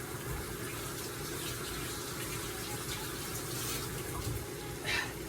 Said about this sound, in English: wash your tomatoes.